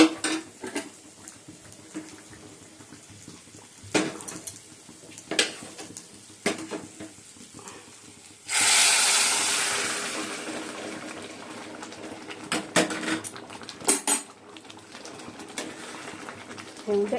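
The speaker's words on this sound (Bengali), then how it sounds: "ডালিয়াটা ঢেলে দেবো।" Broken wheat (dalia) is poured into a pan of tempered green chili, cumin powder and coriander powder, giving a sudden sizzling rush midway that tapers off. Sparse utensil clinks and kitchen knocks come before and after.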